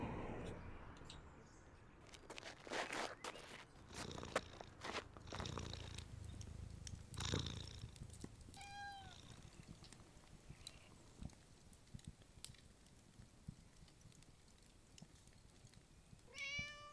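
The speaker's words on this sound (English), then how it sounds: "Although she does have a lot of cats." Domestic cats in a house purr steadily and meow several times, rising wavering cries against faint rustling and soft thuds in a quiet room.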